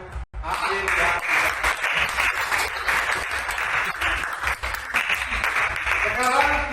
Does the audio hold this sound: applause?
yes